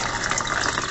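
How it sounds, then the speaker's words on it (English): Water from Dutch buckets pours into a PVC return pipe in an aquaponics setup, making a steady, continuous gushing splash throughout, loud and close with no pauses. "We can see the Dutch buckets pouring water into it."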